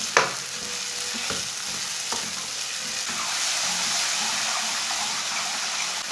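Chopped tomatoes and green chillies fry in a pan for egg curry (anda salan), producing a continuous close sizzle with a few light clinks of stirring near the start and no talking.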